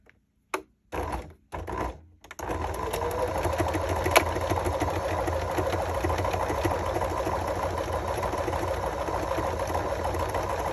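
A sewing machine stitches trim onto fabric for a paper bag journal cover, starting with a few short bursts and then running as a steady, continuous mechanical whir at close range.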